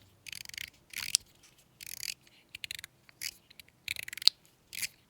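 Someone pushes a Binary Star mechanical slider back and forth, its balls and springs giving repeated crisp, close clicking and scraping strokes in short bursts with quiet gaps between.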